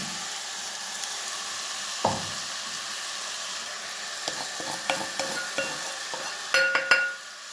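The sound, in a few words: stirring chili powder into a mixture in a pan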